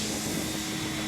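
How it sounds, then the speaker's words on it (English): A GOOSKY E2 Venom RC scale helicopter flies nearby, its rotors and motor giving a steady, loud whooshing roar with no talk. "That is a beautiful helicopter."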